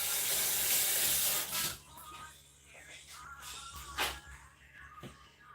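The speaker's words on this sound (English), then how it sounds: "Let me rinse this off" A kitchen tap runs steadily while something is rinsed under it, with a loud continuous wash of water at first, then quieter splashing and intermittent bursts as the flow is moved.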